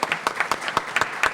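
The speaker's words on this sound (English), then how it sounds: "Let's give them a round of applause for all the work that they're doing" Applause from an audience at a university event launching a Latino initiative: dense, steady clapping of a moderate-sized crowd, fairly close, with no one speaking over it.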